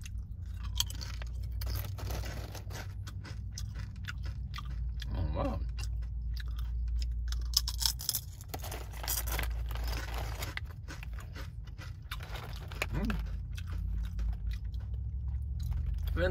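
Taro chips being chewed up close, with loud, irregular crisp crunches and bites in quick bursts over a low background hum, and no talking.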